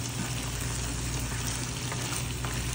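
Mixed vegetables with dried fish fry in oil over a high flame as the liquid cooks down, giving a continuous, dense, close sizzle with no break and no talk.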